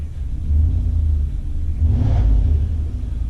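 Rough, shaking idle from a BMW 4.4-liter V8 with a suspected faulty idle air control valve and a bad exhaust: a steady, heavy low rumble that swells briefly midway, heard close with no voices.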